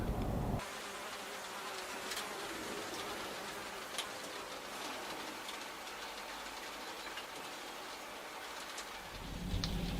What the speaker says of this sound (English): Starting to rain, so I've had to come indoors